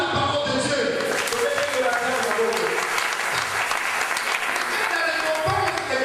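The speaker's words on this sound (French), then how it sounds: "Acclamez pour la parole de Dieu" A church congregation applauding at a sermon in Kintambo, loud, dense clapping from many hands filling the whole stretch, with voices and crowd noise mixed underneath.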